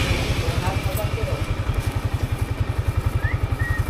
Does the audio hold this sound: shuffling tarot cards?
no